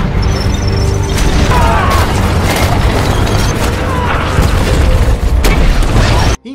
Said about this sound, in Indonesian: berusaha melumpuhkan musuh dengan menembakkan mortir